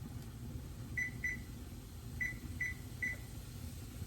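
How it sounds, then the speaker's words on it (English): A kitchen timer gives short electronic beeps as it is set for cooking, five quick chirps in irregular spacing over a low steady background hum. "Setting the timer for 18 minutes."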